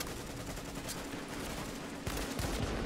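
Faint, continuous gunfire from a firefight in The Division, fast shots blurring into a steady rattle, with a few sharper reports near the end.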